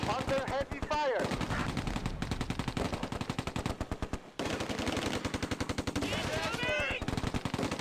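Heavy machine-gun fire from German attackers in the Close Combat game, fought over Polish-held farmland: long, dense bursts of rapid shots rattle almost continuously, broken by a couple of brief pauses.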